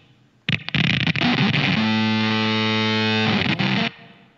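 Electric guitar played through distortion effects with its tone control swept, one loud sustained chord ringing for several seconds after a few sharp strums, then cutting off, with no voices.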